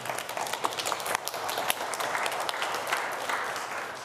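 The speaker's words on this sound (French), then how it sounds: "Applaudissez-le." Congregation applauding during a Catholic Mass homily in French, a fairly quiet but dense burst of many hands clapping with a few sharper individual claps, sustained for about four seconds.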